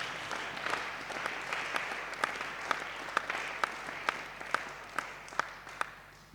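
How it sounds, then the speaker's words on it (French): Congregation applauding inside a church during a French-language sermon, a steady wash of many hands with a few sharper claps standing out near the end, moderately distant and continuous throughout. "Est-ce qu'on peut applaudir le Seigneur?"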